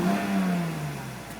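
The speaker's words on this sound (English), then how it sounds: "As soon as you give it a little bit of gas, it smooths out and evens out." A 1996 Mercedes SL 320 convertible's engine revs in park, a loud, steady mid-pitched rise that slowly settles and falls away, heard alone and close up.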